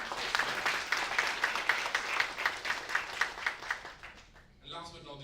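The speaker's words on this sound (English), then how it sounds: "Big round of applause to all the research scholars." Clapping for research scholars at a research symposium in Dubai, a thin, fairly distant round of claps in an uneven rhythm that thins out and fades, followed by a voice at the end.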